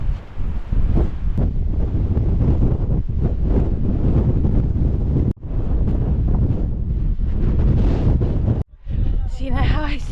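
Strong wind buffeting the microphone on a coastal clifftop walk along the Seven Sisters, a loud continuous roar with gusty swells and two brief dropouts, heavy and close throughout.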